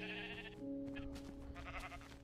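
Sheep bleat in the video game Minecraft, a few wavering calls layered over quiet background game music and faint ambient sounds.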